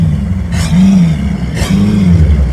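The engines of a Technohull Alpha 50 quad outboard rig being started one by one with individual keys, giving two short bursts over a low, steady idling rumble, close and loud.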